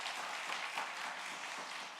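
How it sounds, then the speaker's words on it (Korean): Congregation applause at a church officers' spiritual training worship service, a steady wash of many hands clapping, fairly faint and distant, sustained evenly without talk. "귀한 시간 내주셔서 귀한 은혜 주셔서 감사하다고 큰 박수 한번 해주시기 바랍니다."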